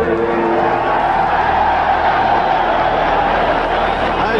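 A large crowd at a British boxing match roars for champion Alan Minter, a dense, loud, sustained wash of cheering with a commentator's voice over it.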